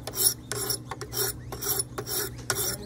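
Knife blade stroked against the stones of a Wicked Edge Pro guided sharpener, with a heavy burr on the edge; steady rhythmic rasping strokes repeat about every half second, close and clear with no talking.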